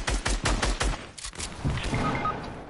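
Rapid gunfire in a multiplayer video game shooter, a burst of several quick evenly spaced shots followed by a duller boom and lingering rumble, loud and close with no talk over it.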